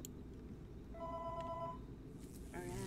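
An in-game telephone rings in the Roblox FNAF Coop horror game, two short bursts of thin electronic ringing tones, faint against a quiet background hum, with no one talking.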